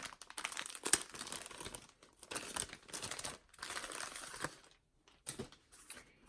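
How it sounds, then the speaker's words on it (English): A plastic bag holding black Gucci interlocking tights crinkles and rustles in repeated bursts as it is opened, loud and close, with short pauses between handlings. "So they come in this plastic bag like this"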